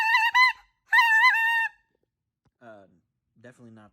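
A Flextone goose call blown to imitate snow geese gives several loud, close, high honking bursts, followed by quieter, lower, raspier notes.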